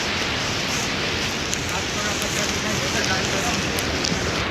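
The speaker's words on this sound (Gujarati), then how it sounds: "રસ્તો બહુ જ રિસ્કી કારણ કે વરસાદ પડે છે હજી તો" Rain falls steadily on a mountain path near Yamunotri, a loud, continuous broadband hiss with faint scattered ticks of drops throughout.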